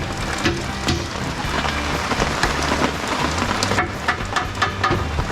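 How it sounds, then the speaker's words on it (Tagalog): Heavy rain pours down steadily on a gloomy stormy morning, a dense continuous hiss of drops striking surfaces nearby, unbroken and loud, with no voices. "umulan. Hindi na huminto hanggang ngayon oh."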